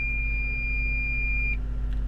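Battery protector alarm in a truck: a single sustained high-pitched electronic beep lasting about a second and a half over a low engine idle hum, then cutting off.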